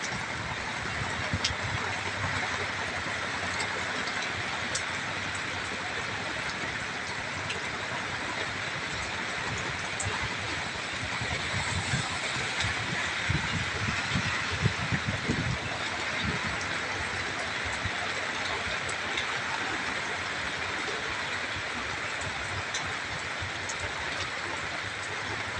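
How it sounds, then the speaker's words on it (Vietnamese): Heavy afternoon rain falls along a riverside embankment where sand barges pass, a steady dense hiss with low rumbling underneath, continuous and fairly distant throughout. "Rồi buổi chiều nay trời mưa rất lớn luôn."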